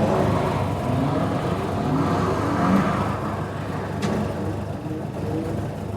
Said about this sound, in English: That's Ashley Birch sending it in his ZTEC powered moredoor Mk2 Escort.